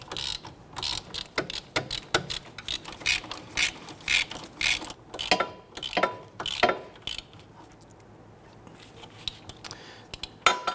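Ratchet tightening the wheel hub bolts on a 2011-2015 Kia Sorento: rapid bursts of loud, close clicking in repeated runs, with brief pauses between bolts and a quieter stretch partway through.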